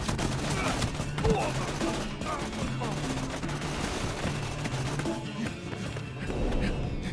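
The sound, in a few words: gunfire in the Tales from the Borderlands video game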